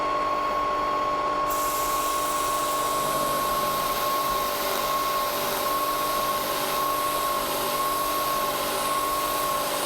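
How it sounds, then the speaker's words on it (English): A Tormach PCNC 1100 CNC mill drills holes with its spindle slowed, giving a loud, continuous high whine with a steady pitched tone over broadband machine noise, running without pause. "so more holes. And slow the spindle down a little."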